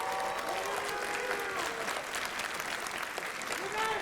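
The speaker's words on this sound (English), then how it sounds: "Can we have a big round of applause for these people?" Steady applause from the crowd at the Megaplex 2021 opening ceremony, many hands clapping at an even level throughout, with whoops and cheering voices mixed in.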